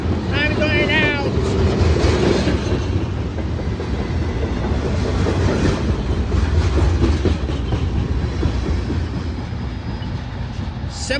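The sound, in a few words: CSX eastbound mixed freight train passing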